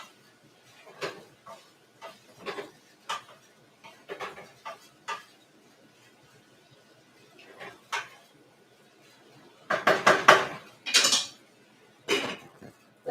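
Celery with a pinch of salt stirred in a pot: a series of sharp, scattered scrapes and clinks of a utensil against the pot, sparse at first, then a denser burst of clattering near the end, close and fairly quiet.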